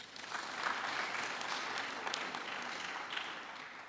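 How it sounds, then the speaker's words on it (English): An audience at a memorial lecture applauds the management and choir, a continuous, even wash of crowd clapping for a few seconds without speech. "Let's give them a round of applause."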